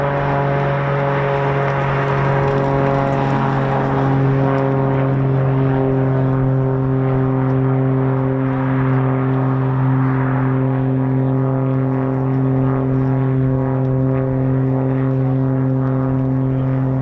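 Swiss F-18 Hornet military jets taxiing at RAF Leeming during Exercise Yorknite 25 give a loud, steady engine drone with a strong tonal hum and whine, holding constant throughout with no voices.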